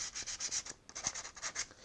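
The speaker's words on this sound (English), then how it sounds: "So I roll it around my sanding block, hold my piece" Fine 220-grit wood sandpaper wrapped around a sanding block is rubbed over a small model piece in quick, even back-and-forth strokes, about a dozen soft raspy swipes with one brief pause, close but quiet, with no talking.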